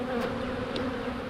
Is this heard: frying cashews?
no